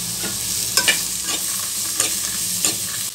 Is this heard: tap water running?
no